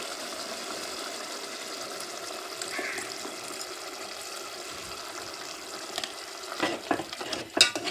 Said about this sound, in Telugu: ఇప్పుడు మనకి ఉల్లిపాయ టమాటా కర్రీ మళ్ళీ ఒకసారి కలుపుదాము